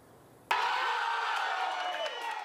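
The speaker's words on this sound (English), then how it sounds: "Thousands of fans here in Houston cheering them on" Thousands of Houston Cougars fans in Houston burst into sudden, loud cheering and whooping, a dense roar that holds steady after the abrupt start.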